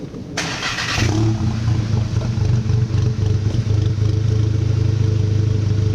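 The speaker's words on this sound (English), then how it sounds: "we're going to do a quick startup, because I just realized you've never heard what this car sounds like" A VW MK7 GTI four-cylinder with a catless downpipe and track exhaust starts up close by. It fires with a sharp burst and settles into a loud, deep, rumbling idle that holds steady.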